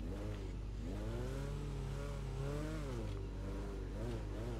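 A car engine in GTA Online revs up and down in repeated swells, a steady mid-pitched drone that climbs and falls several times without a break and with no talk over it.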